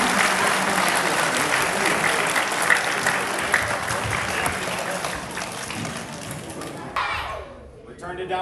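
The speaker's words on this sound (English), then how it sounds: "let's give them a round of applause" Loud, steady audience applause at an awards ceremony as students walk up on stage, dense clapping that fades out near the end.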